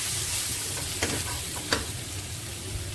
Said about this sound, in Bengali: লবণ, হলুদ, ধনিয়ার গুঁড়া, জিরার গুঁড়া, সামান্য ভাজা জিরার গুঁড়া দিয়ে মিশিয়ে নিচ্ছি।